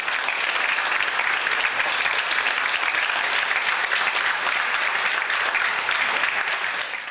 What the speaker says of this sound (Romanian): cei de la PAS au aplaudat furtunos